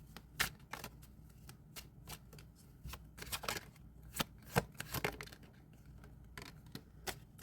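Playing cards shuffled by hand, a run of soft riffling and snapping bursts of uneven rhythm, close and fairly quiet.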